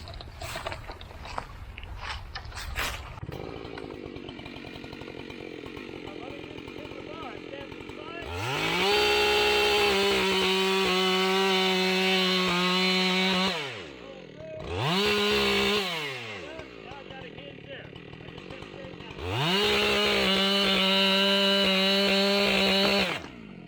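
Chainsaw cutting a face notch into a standing tree in a saw-day setting, running in three loud bursts of revving, the longest first, a short one in the middle and another long one at the end, with talk in between.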